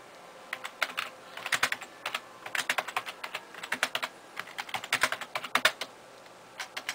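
Irregular bursts of clicking keystrokes on a computer keyboard, typed one-handed while writing a Facebook message, close and crisp with short pauses between clusters.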